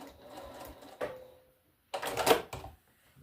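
Sewing machine stitching potholder binding, two short bursts of rapid whirring separated by a pause, close and fairly quiet.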